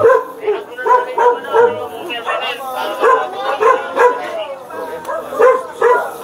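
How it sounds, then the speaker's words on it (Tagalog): Several dogs bark and yip repeatedly in a residential compound in Barangay Palatiw, San Agustin Street, with overlapping voices of people talking nearby throughout. "Medyo maraming aso dito."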